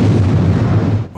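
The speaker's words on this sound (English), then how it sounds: "the charge has detonated, but we missed" A detonating charge in a Gerry Anderson science-fiction audio drama roars as one loud, sustained rumbling blast that fills the whole clip, then cuts off abruptly near the end with a brief fading tail.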